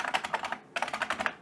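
Rapid keystrokes on a computer keyboard, two quick bursts of close, crisp clicking separated by a brief pause, with no voices.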